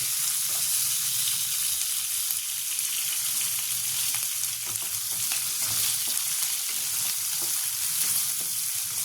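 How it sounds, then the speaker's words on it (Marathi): Onion frying in a pan after cumin, a loud dense sizzle that runs throughout while a spoon stirs with faint scraping strokes, close up. "आता आपण कांदा लाल होईपर्यंत फिरू"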